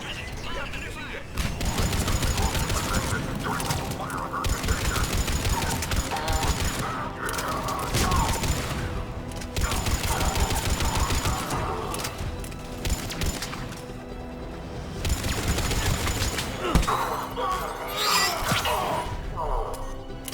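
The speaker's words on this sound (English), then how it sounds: "They're under fire!" Sustained rapid gunfire at a checkpoint in the video game Mass Effect 3, dense volleys and crashes layered with music and effects, loud and continuous across the scene.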